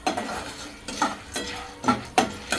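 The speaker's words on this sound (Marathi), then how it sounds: "आणि थोडंसं मी हलवून घेते. पूर्ण असं तेलामध्ये भिजले पाहिजे मका." Popcorn corn kernels are stirred in oil in a pan at home, giving a handful of scraping, rattling strokes at an uneven pace, close up, with no talking.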